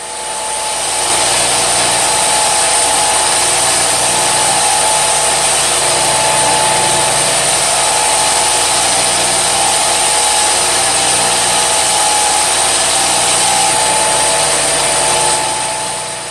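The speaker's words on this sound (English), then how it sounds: "we're going to go over and belt sand off the rough edges on that a little bit" A belt sander runs steadily on a reclaimed wooden hammer handle for about fifteen seconds, a constant high-pitched whine and gritty rasping, close and loud, with no talking.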